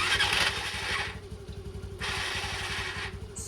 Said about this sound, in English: Now when I try to start the bike, you listen to the sound of the starter motor carefully